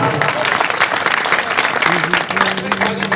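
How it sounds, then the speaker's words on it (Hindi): An audience at a kavi sammelan poetry gathering claps for a young poet, a lively crowd of hands with voices and a brief tone rising near the end. "एक बार जोरदार तालियां।"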